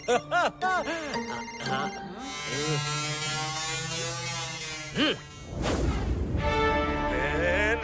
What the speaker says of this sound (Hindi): ओ, ये तो मेरे पार्टनर KN का फोन है।